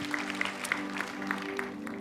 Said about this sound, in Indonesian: Yang diberkati boleh berikan tepuk tangan buat Tuhan Yesus Kristus